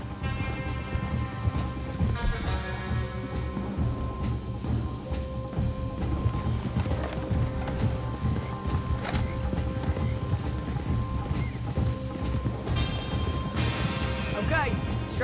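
Horse hooves clip-clop steadily at a walking pace, close by, with occasional snorts and background clatter, in Red Dead Redemption 2.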